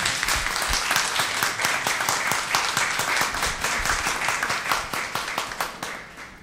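Audience applause at a public hearing on culture and peace, a dense steady patter of many hands clapping alone, with sharp individual claps standing out, thinning slightly toward the end.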